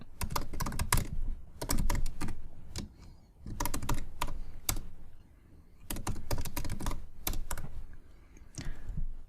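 Fingers type on a computer keyboard in quick, close bursts of clicky keystrokes separated by short pauses, with no voices over them.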